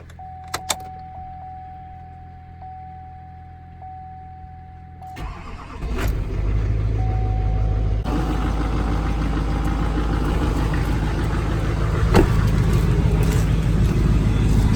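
A Chevrolet K1500 pickup truck starts with a brief crank and settles into a steady, low, rumbling idle that continues to the end, preceded by quiet clicks and a faint tone.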